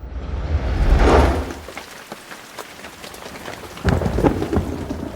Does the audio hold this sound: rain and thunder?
yes